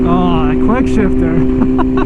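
BMW S1000RR sport motorcycle with an aftermarket exhaust, engine blipping through quick downshifts while riding, with short rising and falling rev bursts over a steady loud drone.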